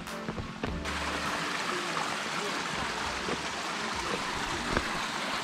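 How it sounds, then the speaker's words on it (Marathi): A forest stream on the trek route to Vasota Fort flows in a steady, broadband rush that fills the whole stretch, with a few brief knocks near the start and no talking. "आणि जाताना पहिला आपल्याला ओढा लागलेला आहे."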